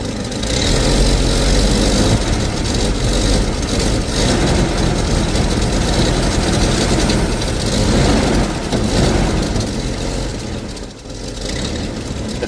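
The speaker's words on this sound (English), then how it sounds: "Let's try a bit of revs." A Ford XB Fairmont car engine runs loud and close with the choke off, holding a steady, heavy rumble that swells slightly with revs throughout.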